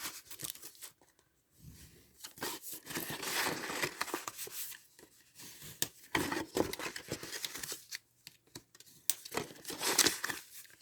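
Paper is cut and creased by hand to make a support box for a perpetual calendar: close, irregular crinkling, rustling and snipping sounds in uneven bursts with brief quiet gaps, no talk.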